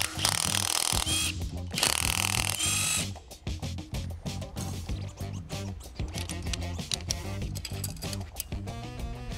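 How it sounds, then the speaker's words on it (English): Power tools buzz and whir in loud, choppy bursts while the rocker assembly comes off a Cadillac 500 engine, with rattling and clanking of the parts between the bursts. "Now I need to pull off this rocker assembly to get that rod out"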